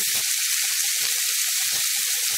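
Chilli chapati sizzles steadily as it fries in a pan spiced with chilli powder, with a loud, constant hiss and several low thumps and scrapes from stirring at irregular intervals.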